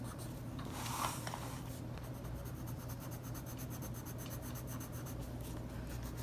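Pencil shading on paper while drawing a window view, a soft continuous scratchy rubbing. One brief louder stroke comes early, then steady repeated strokes follow, close and quiet.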